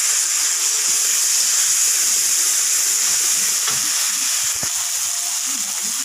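Chopped spices hit hot oil in a pan for a Bengali chapila fish curry, giving a steady bright sizzle with faint stirring clinks and scrapes.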